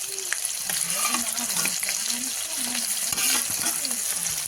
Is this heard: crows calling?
no